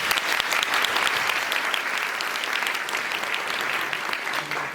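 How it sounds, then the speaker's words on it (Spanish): Dense, sustained applause from an audience filling a university auditorium at a career fair, steady and loud throughout without a break. "Un fuerte aplauso."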